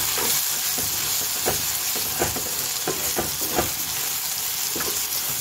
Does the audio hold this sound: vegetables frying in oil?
yes